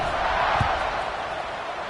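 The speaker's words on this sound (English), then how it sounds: "this crowd now ready to get behind them" A football stadium crowd just before kickoff, a steady, fairly distant roar and murmur of many voices that stays level throughout.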